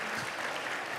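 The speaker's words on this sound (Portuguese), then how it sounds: "uma salva de palmas para o nosso convidado" An audience applauds a guest speaker at a talk, a steady dense clapping from a crowd that fills the whole brief moment.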